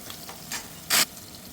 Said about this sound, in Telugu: నూనె బాగా కాగిన తర్వాత మనం ఫస్ట్ ఆనియన్స్ని ఫ్రై చేసుకుందాం